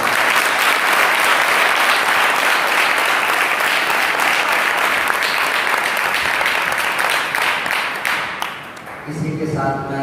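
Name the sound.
applause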